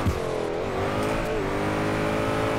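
Car engine in the DRIFT21 drifting game revving hard and continuously at close range, pitch rising and dipping with throttle through a slide, with a brief tire squeal near the start.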